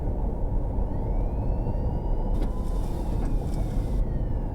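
Emergency vehicle sirens wail faintly in the distance in the Fernbus Coach Simulator game, rising and falling tones over a constant loud rumble of the coach's engine and road noise.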